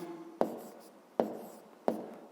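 Numbers being written by hand during a fifth-grade maths lesson on division: three sharp, evenly spaced taps, each with a short scratchy tail, heard alone with no talking.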